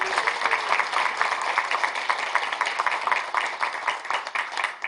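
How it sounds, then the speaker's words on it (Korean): Audience at a Korean political forum in Gwangju claps steadily and fairly loudly for several seconds, a dense patter of hands without pause. "우리 송강석 팀내라고 박수 한번 크게 주세요."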